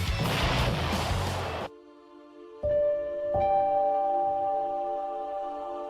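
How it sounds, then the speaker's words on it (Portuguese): An explosion from a grenade shot in an animated battle bursts loudly and noisily, cuts off abruptly, and is followed by sustained ringing tones. "Lobo explodiu Fanático com um tiro certeiro."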